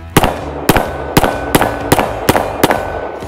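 Seven loud, sharp pistol shots from a Canik TP9 Elite Combat handgun fire in a steady, evenly spaced rhythm at close range, with no talking between them.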